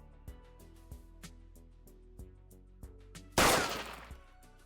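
A sharp, loud gunshot blast stands out once over a plinking musical backdrop, its roar trailing away over a second.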